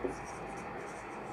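Marker or chalk strokes on a classroom board, soft and faint scratching that runs steadily through the clip, with no talking.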